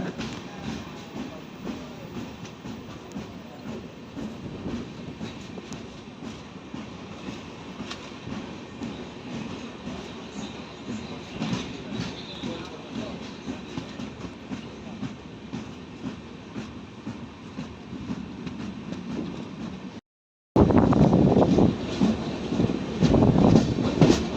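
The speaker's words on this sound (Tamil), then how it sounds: "லைஃப்லேயே ஃபஸ்ட் டைம் இப்போ தாங்க ஒரு LHB கோச்சில் வந்து ட்ராவல் பண்ணிகிட்ருக்கேன்" Steady rumble and rhythmic clatter aboard the Chennai Central Mail Express riding in an LHB coach, continuous wheel and carriage noise close around, briefly cutting out before returning louder.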